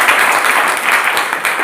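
An audience breaks into loud, steady applause at a business talk, dense clapping filling the room without pause.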